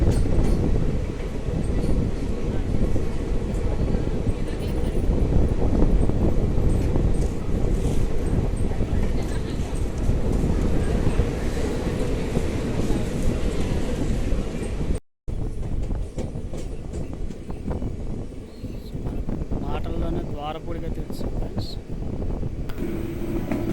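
The Circar Express passenger train runs along the rails between Anaparthi and Dwarapudi in the Godavari region, giving a steady, loud rumble and rattle from inside, with a brief dropout midway before the rolling noise resumes.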